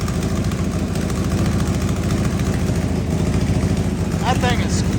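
A Honda Civic with a swapped H23A engine idles roughly, running rich with a misfire, giving a loud, uneven chugging pulse up close, and a voice speaks briefly near the end.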